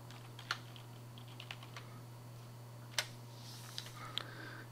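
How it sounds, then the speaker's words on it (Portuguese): Computer keyboard typing into an Excel 2010 spreadsheet, a handful of soft, sparse key clicks over a steady low electrical hum. "E eu posso digitar"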